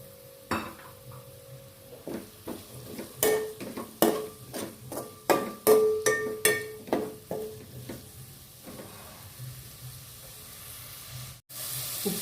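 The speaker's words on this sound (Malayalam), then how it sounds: "നമുക്ക് ഉള്ളി ഇട്ട് കൊടുക്കാം." Onions go into a hot pan with frying ginger and sizzle under a spoon. Clinks and scrapes come in a steady, uneven rhythm for several seconds, then the stirring dies away to a quieter hiss.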